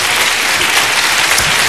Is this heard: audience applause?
yes